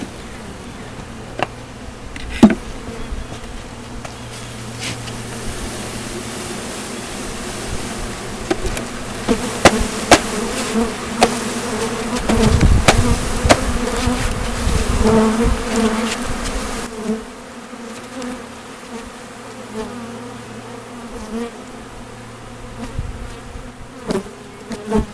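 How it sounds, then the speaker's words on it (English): Three pounds of honeybees with a queen buzz densely and continuously as they are dumped into a hive, swelling louder in the middle as the swarm is stirred, with occasional knocks and clicks mixed in. "I'm going to dump the bees in."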